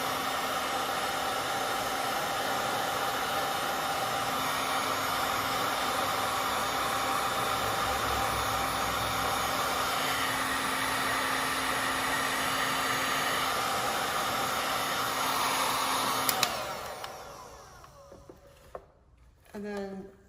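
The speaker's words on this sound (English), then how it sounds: "So just grab a heat gun and heat it up." A heat gun blows on the AMR Racing wrap of a Can-Am Ryker, a steady, close whooshing hiss that runs unbroken before cutting off, followed by a few faint handling clicks.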